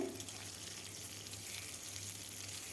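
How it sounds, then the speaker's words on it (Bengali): Pieces of pointed gourd frying in hot mustard oil in a kadai, a continuous close crackling sizzle with a low steady hum underneath and no talking. "এইভাবে ভালোভাবে উল্টে পাল্টে ভেজে নেব"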